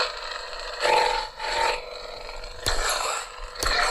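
A harsh, crackling buzz from a Kylo Ren crackling lightsaber soundfont on an LGT Proffie saber surges in bursts, with sharp clashing impacts cutting through a steady rasping hum; loud and close, no voices.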